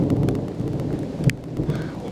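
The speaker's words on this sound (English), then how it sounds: "It's raining way too hard." Heavy pouring rain during a low-water river fishing trip, a dense steady wash of drops hammering close by, with a few sharp louder splatters and no voices.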